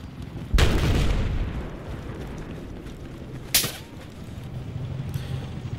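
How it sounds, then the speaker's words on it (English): Gunfire in the shooter game Battlefield 4: a loud close boom near the start, a sharper crack midway, and a fainter shot near the end over a steady rumbling battlefield background. "Now who's shooting at me?"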